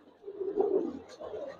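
Silver and Beji pigeons give a soft, low cooing call, one murmuring phrase followed by a shorter second one, faint and close by with no talk.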